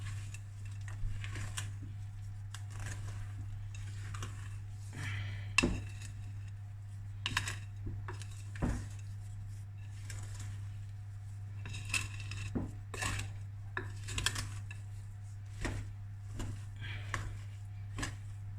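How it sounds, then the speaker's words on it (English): Chocolate being mixed through cookie dough for Aero chocolate cookies, giving irregular clinks and scrapes of a utensil against a bowl over a steady low hum, with sharp knocks around the middle. "now I'm going to add the chocolate. Mix that through."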